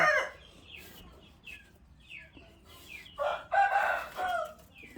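A rooster crows in a rural countryside home, with a short crow at the start and a louder, longer crow later, plus scattered faint chirps between, fairly close and with no talking.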